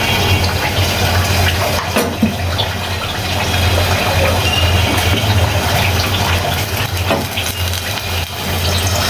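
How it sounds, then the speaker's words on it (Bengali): Cooking oil poured into a pot set on a stove, a close, continuous pouring and gushing sound that keeps a steady level for several seconds, with no voices. "হাঁড়িতে তেল দিচ্ছি।"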